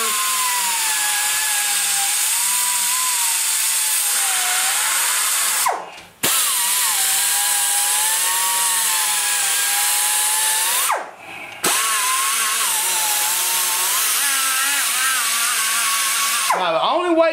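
High-pitched power tool running a 200 grit flap wheel while polishing the combustion chamber of an engine cylinder head, a loud steady whine with pitch wavering under load, broken by two brief stops and restarts.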